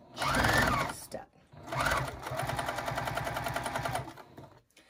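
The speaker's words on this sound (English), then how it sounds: "I wanted to show you how I'm chain piecing, sewing on the binding and the elastics all in one long chain step." A sewing machine chain-pieces binding and elastics onto fabric masks, running in loud close bursts with a rapid rattling stitch rhythm, pausing briefly between seams.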